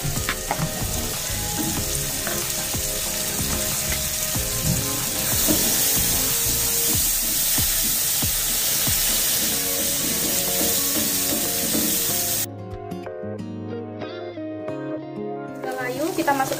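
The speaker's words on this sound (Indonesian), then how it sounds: "kita masukkan bawang bombaynya. Nah kita aduk dulu bawang bombay sampai agak layu ya" Chopped onions frying and being stirred in a pan, a dense continuous sizzle with scraping stir strokes, close and loud, ending with a short stretch of quieter crackling.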